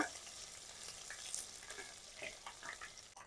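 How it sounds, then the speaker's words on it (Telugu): Ginger garlic paste frying in hot oil for a fish curry, a soft continuous sizzle with light stirring scrapes, quiet and close, no talking. "ముందైతే నూనె కాగిన తర్వాత అల్లం వెల్లుల్లిపాయ పేస్ట్ వేస్తామండి"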